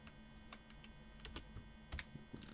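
Typing on a computer keyboard: faint, sparse clicks and taps at an irregular pace over a low background hum, with no talking.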